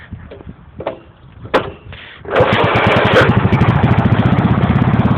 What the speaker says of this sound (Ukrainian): двигун заводиться